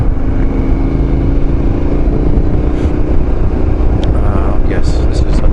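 A 2018 KTM 1290 Super Duke S fitted with an Akrapovic exhaust, a loud close engine rumble that idles and burbles steadily throughout with no clear rev peaks, against wind and outdoor noise.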